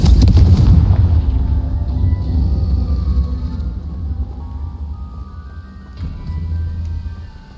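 Confringo blasting spell explosion in Hogwarts Legacy, a loud booming blast at the start with a long rumbling low tail that fades over several seconds, no talking.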